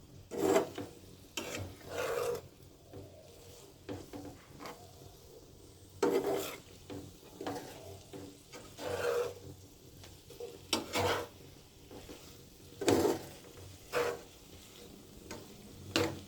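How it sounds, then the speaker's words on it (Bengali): A spoon stirs marinated chicken into potatoes in a pan, giving soft scraping rubs and light sizzle at an irregular rhythm, close and fairly quiet, with no talking. "এবার মাংসটা দিয়ে আমি ভালোভাবে নেড়ে নিচ্ছি।"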